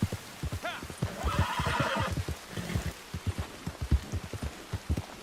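Horse ridden through a rock formation in a video game, its hooves clopping in a rapid, steady rhythm close by, with a loud neigh and whinny partway through over a light patter of rain.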